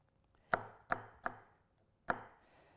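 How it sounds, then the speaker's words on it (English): Knife chopping fresh chili on a cutting board, four sharp, close thuds, three in quick succession and one after a short pause, in an otherwise quiet kitchen. "We're now going to take in some fresh chili. Let's cut it. Let's chop it up."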